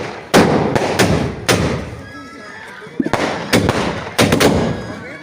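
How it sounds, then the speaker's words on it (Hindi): Firecrackers set off by children at a school celebration bang in sharp bursts, several loud cracks and thuds in quick clusters with crackling between, close by and with voices in the background. "ये देखिए बच्चे किस तरह से पटाखा उड़ा रहे हैं।"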